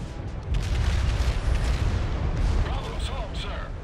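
Battleship secondary guns fire in the World of Warships video game, a dense stretch of rumbling booms and cracks that rolls on continuously with no clear gaps.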